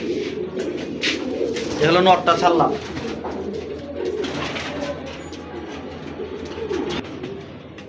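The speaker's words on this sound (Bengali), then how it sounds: "কবুতর দুইটা দেখেন।" Pigeons of a breeding pair offered for sale coo in a soft, steady murmur throughout, rising briefly in the middle, while someone talks over them.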